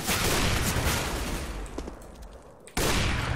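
Rapid bursts of gunfire in the video game Counter-Strike: Global Offensive, a dense loud crackle of shots that thins out before one more sharp abrupt blast, with no talking over it.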